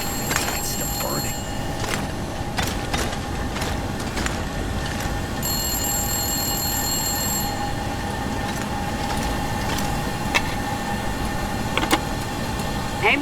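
Electronic telephone ringing in the survival video game The Long Dark, a steady repeating ring with sharp clicks and tones layered over a constant dense background of game ambience.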